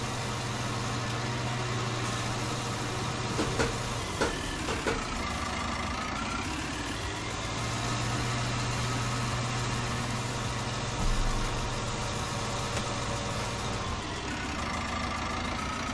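Tractor engine runs steadily while compacting a silo, a constant low diesel drone with slight rises in revs and a few brief clunks, no talk heard.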